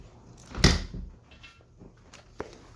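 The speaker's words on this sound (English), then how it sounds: "So I just closed my door tight." A door shut tight indoors: one firm thud with a rattle, followed by a fainter knock a couple of seconds later, against a quiet room.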